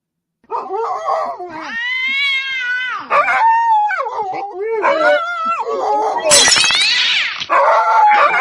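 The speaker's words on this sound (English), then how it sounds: "Oops. Dog." A dog howls and yowls in long, wavering, pitch-sliding cries that run almost continuously for several seconds. The cries are close and loud, rising to a higher, harsher burst near the end.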